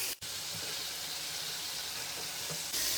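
Tomatoes and slit green chillies hit a pan of restaurant-style chicken karahi, giving a loud, steady hiss of frying that holds continuous for a few seconds after a brief dip at the start, with no talking.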